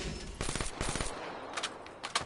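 VMP submachine gun in the video game Call of Duty firing rapid automatic bursts, a steady stream of close shots with a short pause before a few final rounds.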